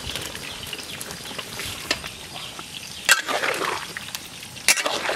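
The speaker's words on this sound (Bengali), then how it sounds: "ভাজা ফুলকপিগুলো এখন দিয়ে দেবো।" Fried cauliflower goes into boiling curry in a village cooking setting, a soft bubbling and stirring with occasional sharp clinks of a utensil against the pot.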